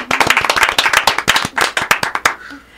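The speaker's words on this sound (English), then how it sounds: "So how about a round of applause for everybody for being here today?" A studio audience at a music show applauds for nearly three seconds: a dense run of close, sharp handclaps that thins out near the end, with no voices.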